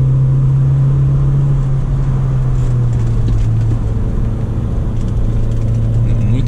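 A 1995 Audi with a manual gearbox drives along, its engine a steady loud hum with low rumble throughout; a voice talks over it.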